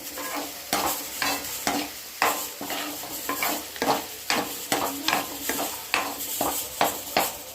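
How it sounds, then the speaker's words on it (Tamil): Crushed garlic fries in a pan for a Tamil bean curry. A spoon scrapes and stirs in rhythmic strokes over a steady sizzle, loud and close, with no talking. "நசுக்கி வச்ச பூண்டு சேர்த்துட்டேன்"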